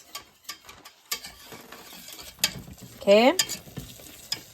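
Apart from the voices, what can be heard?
whisking chicken stock into gravy in a pan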